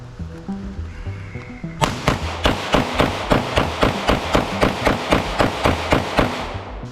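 A Smith & Wesson M&P pistol fired from concealment at a target: after a quiet start, a rapid, evenly spaced string of sharp, loud shots cracks out, roughly three per second, for about five seconds.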